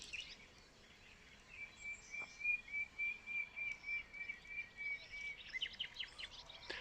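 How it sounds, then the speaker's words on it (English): Birds singing in a garden, a thin sustained whistle note with a few quick chirps around it, faint and somewhat distant over soft outdoor ambience. "I will stop talking for a while so you can hear the bird songs"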